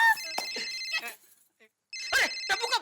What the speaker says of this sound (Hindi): अरे टप्पू का फोन